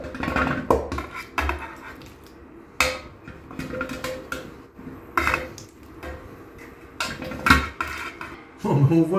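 Vegetables are tipped into a cooking pot filled to the brim, giving a run of irregular clunks, knocks and clattering pieces at close range, with a few louder hits and short pauses.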